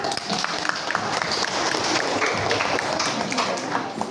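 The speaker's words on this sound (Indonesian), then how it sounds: "Tepuk tangan semuanya." A classroom group claps their hands together, a steady, dense patter of applause lasting several seconds with no speech over it.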